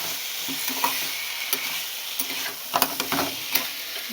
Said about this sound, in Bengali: এবার আবার কাঁকড়া আর আলু দিয়ে আবার খানিকক্ষণ একটু কষিয়ে নিচ্ছি মশলাটাকে